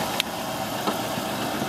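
2010 Chevrolet Impala engine idling after a jump start, a steady medium-pitched hum up close with a few faint clicks over the top.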